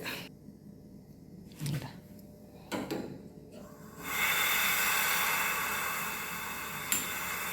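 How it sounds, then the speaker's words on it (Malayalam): A kitchen gas stove is switched on after the regulator is opened: a couple of clicks and knocks, then a steady, fairly quiet gas hiss that continues to the end. "റെഗുലേറ്റർ ഓൺ ചെയ്തു ഗ്യാസ് ഓൺ ചെയ്യാനുള്ള തിരക്കിൽ"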